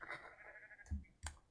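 A sheep bleating in the Minecraft video game, a short wavering call followed by two soft thumps, quiet and close with nothing else around it.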